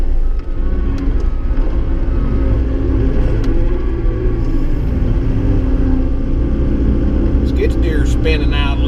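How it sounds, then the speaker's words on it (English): A skid steer loader spins its wheels on slick, icy morning ground, its engine a loud, steady rumble that runs the whole way through with little change. "Skid steer's spinning out a little bit."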